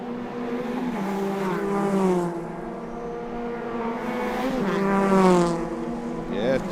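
Race cars at the ICCR 2023 circuit roar past one after another, engine notes rising and falling as each car approaches and recedes, with a final quick whine at the end.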